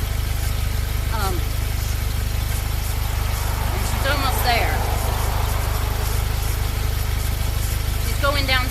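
A Jeep engine idles steadily while warming up to temperature, a low constant rumble running throughout, with someone talking over it.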